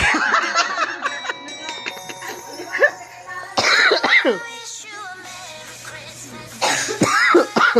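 Coughing and throat clearing at a Christmas party, several close, sharp coughs in separate bursts with quieter gaps between, mixed with light laughter and people talking nearby.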